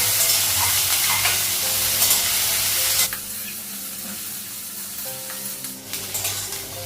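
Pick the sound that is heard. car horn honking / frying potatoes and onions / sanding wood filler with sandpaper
frying potatoes and onions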